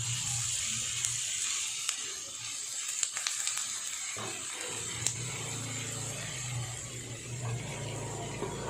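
Something frying in a pan gives a steady, moderate hiss, with a few small pops, a low hum underneath and a brief dip partway through.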